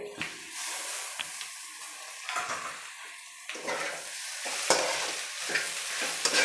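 Masala fries in a pan for a beetroot egg rice dish, a close, continuous sizzle broken by repeated scraping stirs at an uneven rhythm, with no talk over it.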